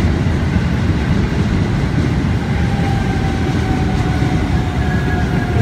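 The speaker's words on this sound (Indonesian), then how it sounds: "Kereta Cibogor rangkaian 12 kereta. Masuk di jalur 27 akhir stasiun Bogor rangkaian 12 kereta." A 12-car KRL commuter train, a former JR 205 series set, rolls in at Cikini station in Jakarta, bound for Bogor, a steady loud rumble and rail noise close by on the platform, with a faint announcement voice in the background.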